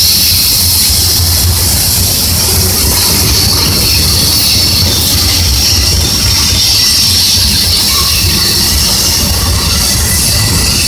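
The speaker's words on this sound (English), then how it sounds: "There goes that long train into the yard." A long freight train rolls past close by into a rail yard, loud and continuous, wheels rumbling with high metallic squeals throughout.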